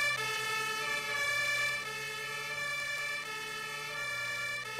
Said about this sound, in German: Diese Sirene nervt mir jetzt schon.